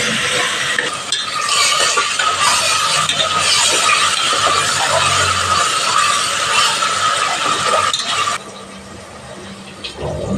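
Ginger-garlic paste with salt fries in a hot pan for menthe palav, giving a continuous close sizzle broken by a spoon scraping and clinking against the metal, then quieting near the end.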